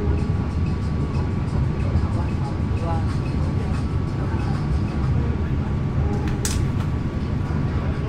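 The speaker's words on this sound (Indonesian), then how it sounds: "Wih, papasan deh kereta api Malioboro Express tahun 18354" Malioboro Express passenger train passing Wates station, a steady, heavy rumble of wheels and cars rolling close by without pause, with a brief sharp squeal near the end.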